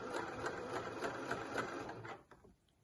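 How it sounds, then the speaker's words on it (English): A sewing machine stitches a curved underarm seam on a dress, a steady close whirring run that cuts off near the end. "you're just encouraging the fabric to curve round as it goes through the machine"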